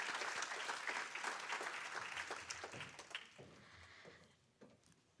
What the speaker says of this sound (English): You can give her a hand of applause.